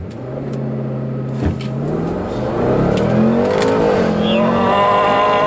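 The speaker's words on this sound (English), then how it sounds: "Okay, straight bit of road, 0 to 60 test" A 2019 Jaguar F-Pace SVR accelerates hard from rest on a straight road, its engine note climbing steadily and loudly through the gears, with a brief shift break midway and a voice briefly heard underneath.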